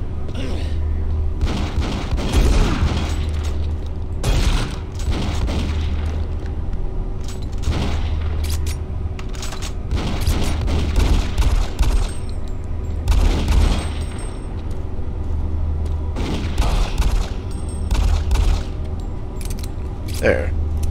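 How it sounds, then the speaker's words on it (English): Gunfire in the video game Doom 3 BFG Edition, with repeated bursts of shots and booming blasts spread across the stretch, loud and irregular, over a steady low hum and game background noise. "All that shooting."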